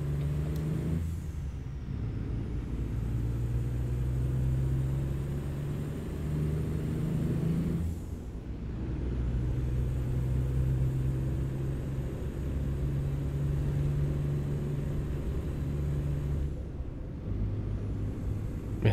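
A heavy truck engine drones loudly and steadily, with periodic shifts and hissing air-brake releases between long stretches of rumbling.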